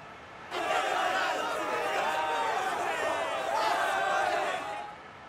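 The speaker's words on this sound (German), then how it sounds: "Und jetzt ist der Jubel natürlich groß." Stadium crowd in an EA FC 24 match between Real Madrid and RB Salzburg roaring in celebration after a goal, a loud sustained cheer that swells and holds for several seconds before dropping away.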